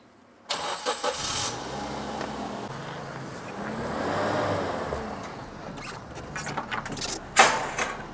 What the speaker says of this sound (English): hopefully this time Matt will be able to get the car in without making a royal mess of everything